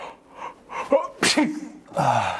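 A single person's sneeze, loud and close, with a sharp explosive burst preceded by a short inhaled buildup and followed by a brief voiced exhale, heard alone without speech.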